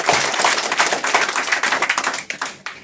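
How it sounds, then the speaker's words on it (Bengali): An audience claps together on request at an indoor training session, a dense burst of hand claps that thins out into scattered separate claps toward the end. "একটা হাততালি দেন।"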